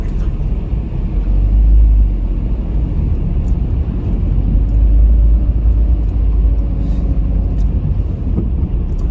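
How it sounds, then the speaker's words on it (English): Steady low rumble of a car driving off a ferry from the UK arriving in Calais, France, a loud continuous engine and road drone heard from inside the vehicle, swelling slightly twice with no clear talk. "about to drive off the ferry"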